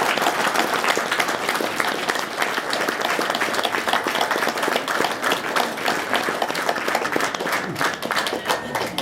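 An audience at a Paris art exhibition opening applauds steadily, dense clapping from many hands held at an even level across the whole stretch, with a few voices faintly underneath.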